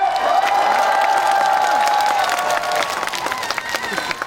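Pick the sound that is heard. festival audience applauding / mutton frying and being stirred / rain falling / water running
festival audience applauding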